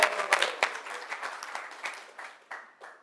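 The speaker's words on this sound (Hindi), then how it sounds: "तो ओंकार जी का तालियां बजा के स्वागत करो" Audience applause in a Vrindavan morning lecture hall, scattered claps that start strong and taper off over about three seconds, with a few renewed bursts near the end and no talking over them.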